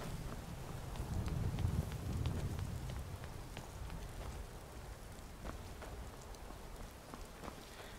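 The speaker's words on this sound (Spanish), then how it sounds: "Está nublado y está lloviendo." Steady rain in the video game Skyrim patters on a surface with scattered drips, fairly quiet and even throughout, with a low rumble near the start.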